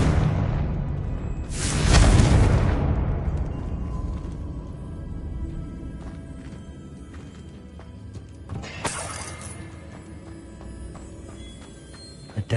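Confringo blast spell in Hogwarts Legacy, cast inside a witch's tomb: a loud whooshing explosion swells early and decays into a long rumbling tail, followed by a second smaller burst and scattered faint impacts.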